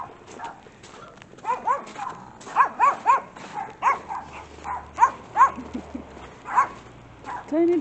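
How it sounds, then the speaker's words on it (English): Several dogs, including small ones, bark in a snowy alley, sharp yips and barks arriving in quick irregular bursts, fairly close and loud, with a soft whimper between them. "Another dog too."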